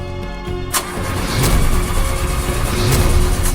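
A car engine is cranked and fails to start, with loud, continuous churning, starter-like grinding and rough engine noise close by for several seconds and no talk.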